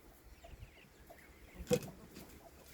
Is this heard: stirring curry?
no